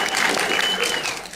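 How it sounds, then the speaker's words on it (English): An audience claps for the people behind a WordPress project, a short burst of dense, steady applause filling the room at close range with no speech over it. "We should give a round of applause."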